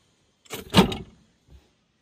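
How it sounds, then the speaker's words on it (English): A rear seat folds down inside a Toyota Sienta 1.5G people carrier, giving a short mechanical clatter and clunk up close, then a softer knock a moment later. "You can knock this seat down."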